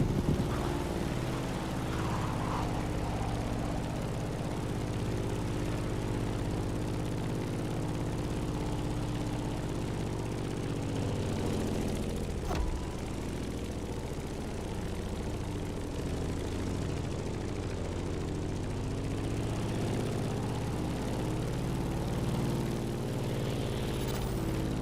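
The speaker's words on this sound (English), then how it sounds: "In the cockpit of a stunning Grumman F-8F Bearcat" Propeller engine of a Grumman F-8F Bearcat in The Crew Motorfest video game, a steady loud droning hum with a low rumble and slowly shifting tone, heard continuously and alone.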